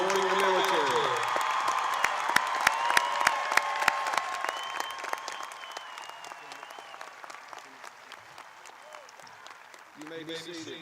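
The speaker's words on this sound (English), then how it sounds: "Please join me in a thankful round of applause for our Cougars who are joining the military." Graduation ceremony audience breaks into sustained applause with some cheering, loud at first with sharp claps standing out, then tapering toward the end as an announcer's voice resumes over the crowd.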